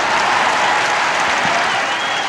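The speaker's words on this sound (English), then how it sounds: "Crowd is small but into it and very vocal." A small but lively crowd applauds and cheers at a 1992 Syracuse versus UMass college lacrosse game, a dense, steady wash of clapping and voices that fills the whole moment.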